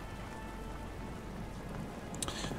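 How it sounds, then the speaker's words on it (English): Steady acid rain patters on a surface throughout, a constant hiss with a couple of louder drips near the end, in the video game Nobody Wants To Die. "We probably shouldn't be standing in this acid rain"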